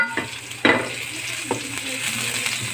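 Chopped onion and garlic frying in a pan for chicken gizzard and liver pancit canton, a steady close sizzle broken by a few sharper stirring clatters.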